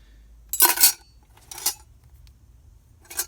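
A metal cooking pot doubling as an eating bowl, a knife and other cutlery handled inside a car, three short clinking bursts separated by quiet.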